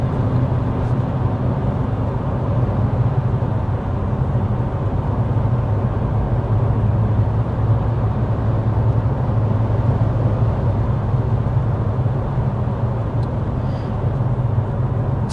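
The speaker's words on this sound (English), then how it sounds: "while we're cruising at 55 miles an hour, it is also time for us to get our signature sound level reading here in the Altima SR." Steady broadband cabin drone inside a 2024 Nissan Altima SR cruising at 55 mph, low road and engine rumble with wind hiss held constant throughout, no talking.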